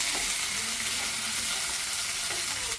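Raw mango pieces frying in a pan, a dense, steady hiss of hot oil sizzling close up and unbroken for a few seconds before it cuts off abruptly.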